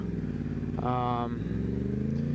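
A motorcycle rides along a road, its engine a steady low drone with a brief rising rev in the middle, heard close under continuous talk.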